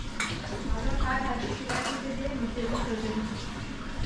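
Pots, pans and dishes clatter and clink as they are scrubbed and washed in a village home, a steady busy rattle with people talking over it.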